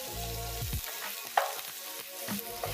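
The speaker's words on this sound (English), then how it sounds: "I'm going to pan fry the shallot to create some crispy texture" Thin-sliced shallot fries in coconut oil in a pan with a soft, low sizzle, broken by stirring and scraping noises and a sharp clink partway through.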